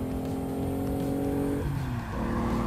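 The four-cylinder engine of a 530 hp Subaru Impreza WRX drones loudly under load, then briefly dips in pitch, as if shifting gear, before pulling hard again, heard from inside the car.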